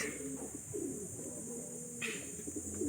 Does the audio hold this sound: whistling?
no